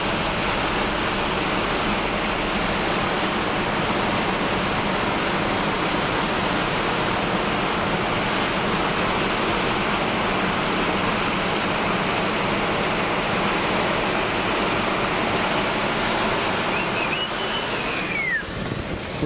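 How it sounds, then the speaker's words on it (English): River rapids rush beside a road, a steady, loud broadband roar of churning water with no pauses and no voices. "all else fails, film the rapids."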